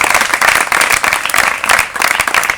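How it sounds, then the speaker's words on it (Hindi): Loud, dense applause from a school audience welcoming a top-scoring student at a results ceremony, steady crowd clapping throughout with no talk. "जोरदार तालियां बजाएं।"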